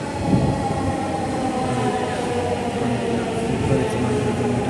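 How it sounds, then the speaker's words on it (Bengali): A Dhaka metro rail train pulls into a station, a smooth steady rolling hum with faint clickety-clack of wheels, fairly close and even, with no talk over it. "এই যে আমাদের ট্রেন আসতেছে, আমাদেরটা আসতেছে।"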